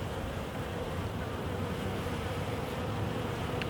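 Honey bees drone in a dense, steady hum around a newly released queen at a hive, a close, continuous buzzing with no pauses.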